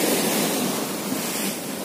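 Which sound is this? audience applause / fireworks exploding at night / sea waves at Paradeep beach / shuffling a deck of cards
sea waves at Paradeep beach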